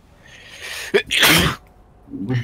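A single loud, sharp sneeze bursts out near the microphone, with a short intake just before it and quiet game sounds around it; a voice stirs faintly afterward.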